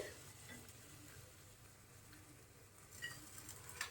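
Pea and paneer masala with fresh coriander sautés in a pan, giving a faint, steady low sizzle and soft stirring, with a few sharper scrapes near the end.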